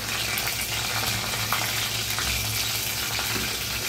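Garlic and three green chillies fry in a pan, a continuous close sizzle and bubbling hiss at even loudness with occasional soft stirring scrapes.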